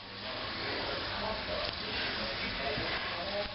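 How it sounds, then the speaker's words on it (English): Breaded chicken tenders, coated in kettle potato chips, sizzling as they pan fry in hot oil, a steady close hiss and crackle that holds evenly throughout with no voices over it. "that piece is sizzling"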